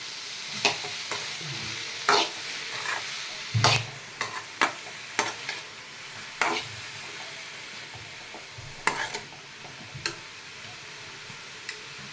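Boiled cabbage with chana dal and turmeric is stir-fried in a pan, a soft sizzle broken by frequent sharp scrapes and taps of the spatula at an irregular pace.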